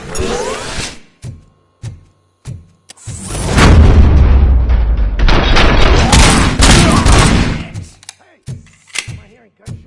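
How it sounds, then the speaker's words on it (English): A string of sharp gunshot bursts with booming impacts in the Robocop video game, then a sustained stretch of rapid loud firing and explosions before single shots resume. "Am I hearing gunshots?"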